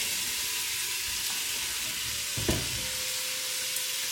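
Onions sizzle in olive oil in a pan, a steady close hiss of frying with a brief scrape of stirring midway.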